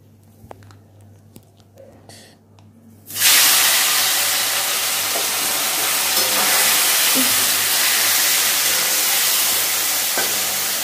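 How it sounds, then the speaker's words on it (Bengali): Kajli fish frying in mustard oil: a loud, steady broadband sizzle bursts in after about three seconds of quiet kitchen background and continues with small crackles and pops to the end. "এই তেলে আমি কাজলি মাছগুলো ভেজে নিই।"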